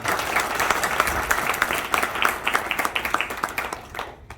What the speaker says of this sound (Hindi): जोरदार तालियां राजेश